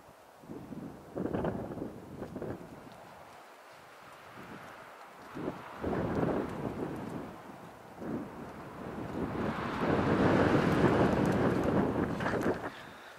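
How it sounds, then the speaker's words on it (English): Strong wind buffets the microphone at a high lookout in Tasmania, in rumbling gusts that rise and fall, swelling into a long, loud roar near the end. "It's a little bit windy up here"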